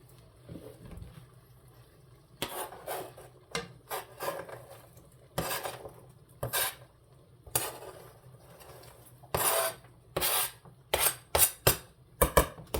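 A spoon works cabbage roll filling around a cooking pot in repeated bursts of scraping and rubbing, each stroke loud and close, separated by short pauses of quiet.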